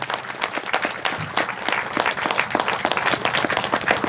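Audience applause during a speech at a public event, a dense, steady wash of many hands clapping throughout, fairly loud and close, with no talk over it.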